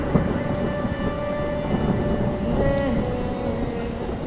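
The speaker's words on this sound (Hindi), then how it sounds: "प्रेम कितनी देर से बारिश में भीग रही है, भूख भी लगी होगी इसको।" Heavy rain pours steadily with rumbling thunder rolling through, a dense, continuous downpour that stays loud throughout, with a faint musical tone beneath.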